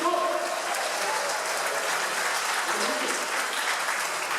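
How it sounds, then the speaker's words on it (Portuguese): Church congregation applauding in praise, a dense sustained roar of clapping lasting several seconds, with a voice faintly audible at the very start. "quem pode aplaudir o Senhor por essa vitória"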